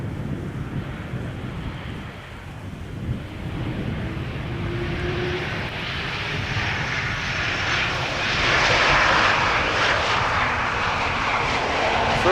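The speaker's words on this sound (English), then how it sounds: "KLM flight 1920 arriving from Zurich, now touching down, the second consecutive E2 Embraer 195." A KLM Embraer 195 E2 jet arriving from Zurich touches down at Amsterdam Schiphol, its engine roar building steadily amid wind noise, loud and continuous throughout.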